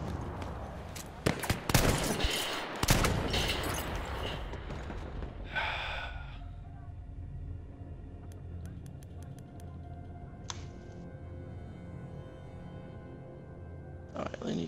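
Battlefield 1 multiplayer gunfire, a burst of loud close shots and rapid fire early on, then a quieter stretch with scattered distant cracks and short noises, with some breathy voice sounds mixed in.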